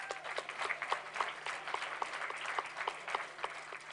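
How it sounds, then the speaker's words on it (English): An audience of a community celebration applauds for a high school dance team, a steady patter of clapping that stays fairly faint and distant throughout. "Let's give them a round of applause."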